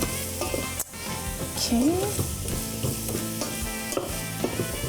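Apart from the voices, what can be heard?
onions, carrot and garlic sizzling as they caramelize in a pan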